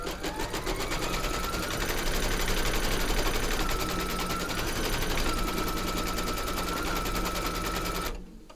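An embroidery machine stitches batting held in a hoop, a loud, steady rapid needle chatter running without a break for about eight seconds before it stops abruptly.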